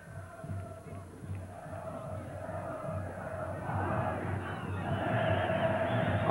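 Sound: Corinthians football fans cheering in the stadium

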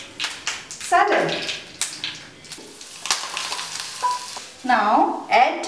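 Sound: hot seasoning tempering poured into cucumber mung bean salad, sizzling

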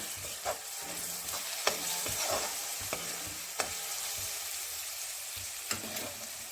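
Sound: sautéing grated coconut, pepper and chickpeas in a pan

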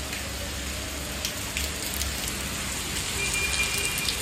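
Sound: heavy rain

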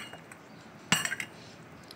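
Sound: mixing chana chaat with spices and tamarind pulp

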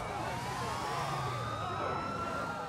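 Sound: police car siren in video game Grand Theft Auto 4

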